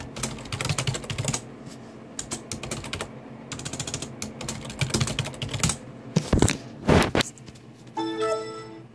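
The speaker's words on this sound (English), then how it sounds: "I'm just going to enter in my password real quick." Password keys tapped on a computer keyboard of a Windows 7 PC, quick irregular bursts of clicking with short pauses, a couple of louder thumps near the end and a brief tonal beep sequence closing it out.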